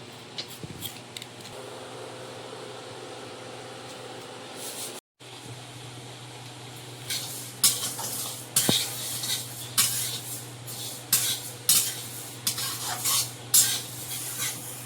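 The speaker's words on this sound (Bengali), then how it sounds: "ডালটা ভেজে নিই" Lentils being dry-fried in a pot, first a quiet hiss, then a run of rapid scraping stirs and spoon knocks against the metal, close by.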